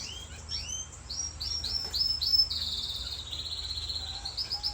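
Owl finches chirp in a run of clear, bright, rising calls that merge into a sustained trill, fairly close, with no talking.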